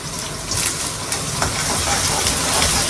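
Dense crackling and spattering with scattered sharp pops as hot oil sizzles loudly and close by during tempering.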